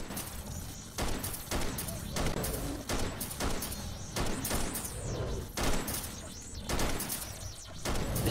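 Gunshots in the Bigfoot hunting game, a snowy adventure, crack out as a series of sharp, loud shots spaced roughly a second apart, with some reverberating tails between them.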